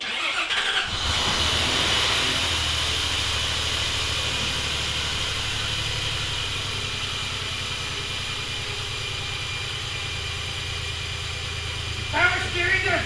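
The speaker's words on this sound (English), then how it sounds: "you ready to try and start it?" A Nissan VQ35DE V6, fresh from a top-end rebuild, cranks and catches about a second in, then roars steadily and loudly with a high, persistent belt-like squeal riding over the engine drone, close up throughout.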